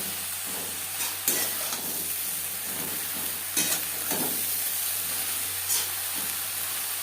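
Turmeric powder and salt stir-fried over a medium gas flame for a katla fish and brinjal curry: a steady frying hiss broken by several sharp scraping strokes of the spatula, close and continuous, without talk.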